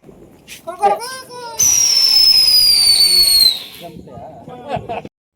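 A Diwali firework shrieks with a loud, high descending whistle for about two seconds after its fuse is lit, with children's voices chattering before and after.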